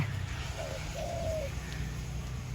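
A spotted dove coos softly in a low, drawn-out phrase, repeated twice against steady low background hum.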